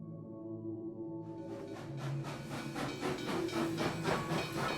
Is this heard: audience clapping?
no